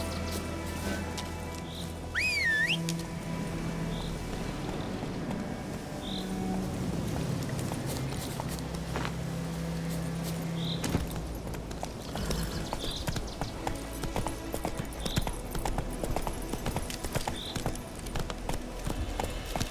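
Horse hooves galloping in The Witcher 3, with a steady clip-clop of hoofbeats running throughout under faint game music and occasional ambient sounds, close and continuous.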